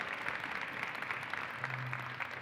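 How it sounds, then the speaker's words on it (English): Students in a hall give a round of applause, a faint, distant wash of many hands clapping, with a brief low hum near the end. "Let's give them a round of applause."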